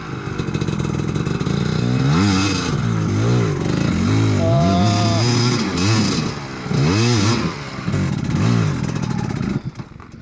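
A KDX250 or YZ250X two-stroke dirt bike on a rocky hard enduro trail, its engine loud and close, revving up and down in repeated surging bursts with clattering over stones.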